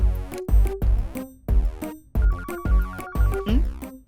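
A mobile phone ringtone rings out as a repeating melodic electronic tune of short bursts with brief gaps between them, loud and close, with no voices over it.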